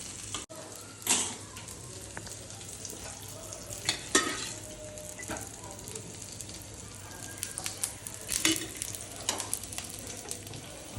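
Thepla flatbreads frying in oil, a soft steady sizzle broken by occasional louder crackles and spatters.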